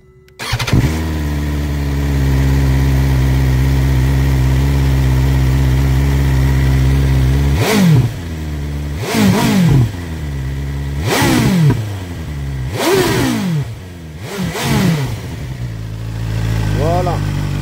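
A BMW S1000XR motorcycle engine cranks and fires, then settles into a steady, close idle broken by several sharp throttle blips that rise and fall in pitch.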